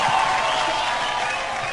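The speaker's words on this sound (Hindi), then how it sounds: "जोरदार तालियां" A studio audience on a Hindi comedy talk show gives a brief burst of steady applause, dense and even throughout.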